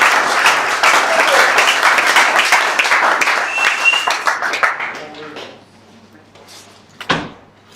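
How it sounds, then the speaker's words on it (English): Audience applause for a contestant at a live onsite event, loud sustained clapping that swells and then tapers off after about five seconds, with a brief louder clap or bump near the end. "Give him a great round of applause, please."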